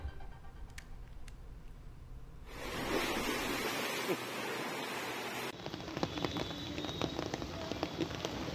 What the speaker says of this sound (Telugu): ఇటు ఏపీలోనూ పలు చోట్ల వర్షం కురిసింది.